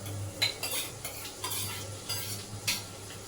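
Spices and chilli pieces crackle in hot oil for a Gujarati vaghar while a metal spoon scrapes and stirs the pan in short repeated strokes, close by, with a low sizzle underneath and no talking.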